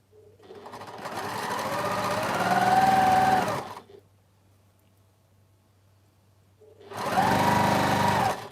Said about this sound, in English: I'm now going to sew these together, 1/4-inch seam all the way down the side.